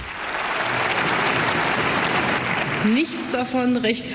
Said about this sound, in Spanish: De entrada, ovación.